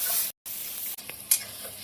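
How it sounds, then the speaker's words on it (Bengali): Spice paste with potatoes sizzles in a hot pan with a steady hiss, cut by brief dropouts and a few scraping bumps from stirring. "মশলা দিয়ে ভাজার জন্য খুব ভালো করে নাড়বো।"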